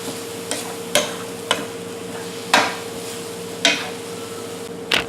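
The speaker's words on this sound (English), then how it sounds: "Stir it around." Spinach stirred in a pan gives a soft background hiss broken by about six sharp, separated knocks and scrapes of a utensil against the pan, close and otherwise quiet.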